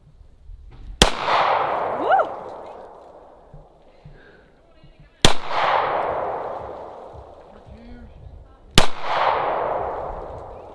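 Three sharp, loud gunshots ring out outdoors, spaced several seconds apart, each cracking sharply and then trailing off in a long echo, with people talking quietly between the shots.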